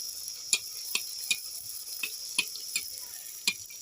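Semolina masala puris frying in hot oil give a soft steady sizzle, broken by a series of faint, sharp crackles and pops spaced unevenly, with no talking.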